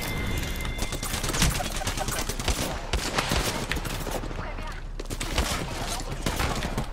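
Dense, continuous gunfire and explosions in an online shooter game during a Bloodhound squad fight, with overlapping shots throughout and players' voices heard in the mix.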